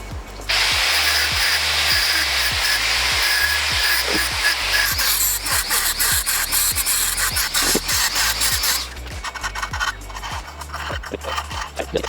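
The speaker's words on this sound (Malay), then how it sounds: "Dengan kita akan grind kat sini untuk buat lubang kecil untuk masukkan skru." A power tool grinds a small screw hole into a Bosch jigsaw roller guide, running loud and steady with a rapid repeating pulse. The pitch shifts partway through and the grinding continues to the end, with no talk.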